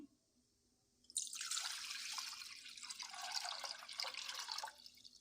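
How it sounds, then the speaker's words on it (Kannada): Water pours into a pot sitting on a gas stove, a splashing, gushing stream that starts abruptly after a quiet moment and runs steadily for several seconds, close by. "ಗ್ಯಾಸ್ ಮೇಲೆ ಒಂದು ಪಾತ್ರೆ ಇಟ್ಕೊಂಡು ಅದಕ್ಕೆ ನೀರು ಹಾಕ್ಕೊಳ್ತೇನೆ"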